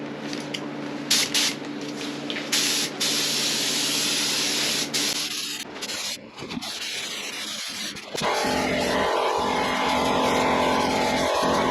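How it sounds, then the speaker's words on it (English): Spray gun coating the inside of Ford F-350 wheels, a steady loud hiss of paint spray that runs continuously with brief breaks and shifts in tone, close up and alone. "We're going to shoot the inside of the wheels, just one coat first"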